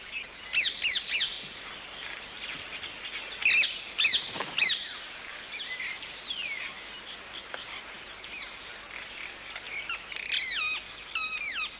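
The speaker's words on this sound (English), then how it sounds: "They also attract birds, a black-headed oriole and a yellow-naped woodpecker." Black-headed oriole and yellow-naped woodpecker in a forest around flowering kapok trees, calling in repeated clear whistled phrases and chirps, moderately near, with quieter gaps between bursts.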